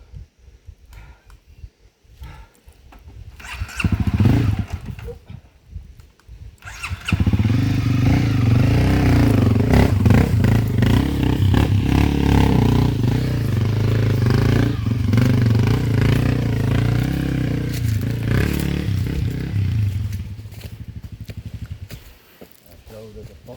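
A trail motorcycle rides off-road, its engine running steady and loud for most of the stretch after a rougher, intermittent start, with clatter and thumps over the terrain and people talking in the background.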